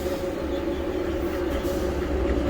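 Interior of a Class 313 electric train pulling away from Ford station, a steady low rumble with a sustained motor hum, continuous and fairly loud, no talk.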